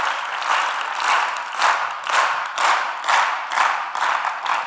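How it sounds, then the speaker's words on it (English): Keynote audience at the LASSI 2024 event clapping together in unison, settling into a steady rhythmic beat of about two claps per second that continues evenly throughout. "So you have to clap synchronously."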